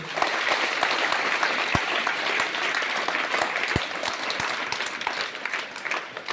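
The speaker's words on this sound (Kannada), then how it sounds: "ಪಟೇಲ್ ಅವರಿಗೆ ಮತ್ತು ಪೂಜ್ಯ ಚನ್ನಬಸವ ಪಟ್ಟದೇವರು ಎಲ್ಲರೂ ಜೋರಾಗಿ ಚಪ್ಪಾಳೆಯನ್ನು ತಟ್ಟಿ" An audience at a Kalyana Karnataka celebration event breaks into sustained applause, a dense, loud wash of many hands clapping steadily throughout with a few sharper claps standing out.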